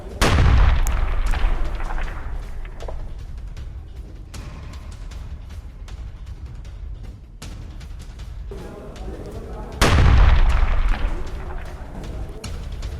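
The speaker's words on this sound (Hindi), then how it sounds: "डोनेट्स्क के घर में फेंकी एंटी टैंक माइन, जोरदार धमाके के साथ घर तबाह हो गया।" Two heavy, booming blasts roughly ten seconds apart, each a sudden loud burst with a rumbling tail, over a steady noisy background, from an anti-tank mine exploding inside a house in Donetsk.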